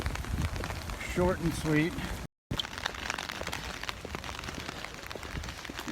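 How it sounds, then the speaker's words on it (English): Rain falling outdoors at the Texas Capitol in Austin, a steady close hiss of drops on surfaces that runs through the whole stretch, with someone talking over it at the start and a brief dropout partway. "It's nice and rainy here in the Texas capital in Austin"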